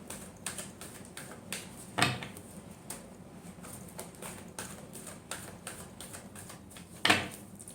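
A tarot deck is shuffled up close, with quiet rapid riffles and taps of the cards and a couple of sharper snaps, all soft and without talk.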